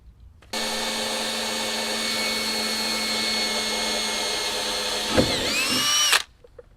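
A power drill bores screw holes for a power door lock actuator in a 2G Eclipse, one sustained loud whine lasting about five seconds, then a brief bump and a falling spin-down as the bit stops.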